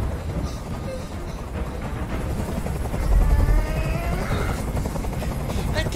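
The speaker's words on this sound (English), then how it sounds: "I can't stand that noise anymore. Tell that helicopter to get out of here." Helicopter in the video game Detroit Become Human, a steady loud rotor drone that swells around the middle and holds throughout, with faint voices underneath.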